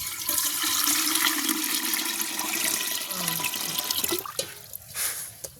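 Water rushes and splashes steadily into a cooking pot of cassava on a stove, then tapers into smaller gurgles and drips near the end, close by.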